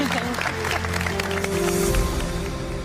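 Clapping from a small group of people at a portrait painting competition, heard among scattered crowd noise and chatter, with tonal background sounds and a steady, moderately loud level throughout.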